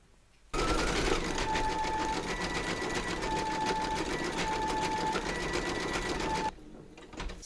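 An embroidery sewing machine stitching decorative scroll work in silver thread on a vintage sewing machine design, a loud steady buzzing whir that starts abruptly and runs for about six seconds before stopping.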